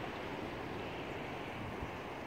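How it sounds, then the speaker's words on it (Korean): Heavy ocean surf beside a seaside cafe on a day of big waves: a dense, steady roar of breaking water mixed with wind noise, continuous and fairly quiet, with no talking. "파도가 오늘 엄청나네요"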